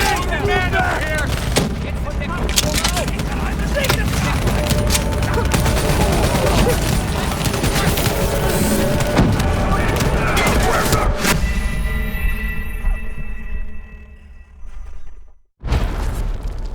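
Grenade explosions and gunfire in Call of Duty Black Ops 3 rage loud and close, with booming blasts, rattling automatic fire and shouted voices, before the battle noise drops away and cuts near the end.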